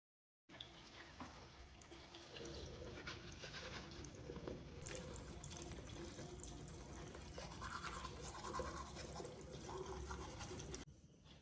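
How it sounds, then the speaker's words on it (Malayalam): A toothbrush scrubbing teeth during a Sunday morning routine, a steady continuous bristly brushing with faint watery sounds, close and fairly quiet, running for about ten seconds with no talk. "ഇപ്പോൾ ഒന്ന് ബ്രഷ് ചെയ്ത് ഫ്രഷ് ആവട്ടെ"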